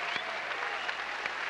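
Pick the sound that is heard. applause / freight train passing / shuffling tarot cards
applause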